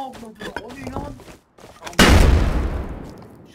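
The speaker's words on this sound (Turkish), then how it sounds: "O neydi, bir şey patladı?" Talk is cut off by a sudden loud boom that decays into a roaring rumble, like an in-game explosion close by.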